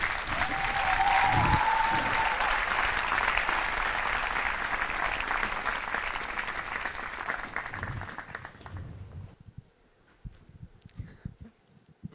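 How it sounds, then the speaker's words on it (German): Warm applause from a crowd at a memorial church service, loud and sustained for several seconds before fading out into near silence. "Also wir dürfen einmal Johannes mit einem warmen Applaus willkommen heißen."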